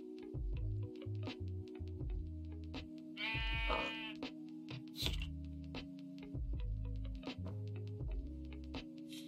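Sheep bleating in the Minecraft video game, one clear wavering bleat rising above a busy loop of low thumping game sounds and repeated clicks, no talk.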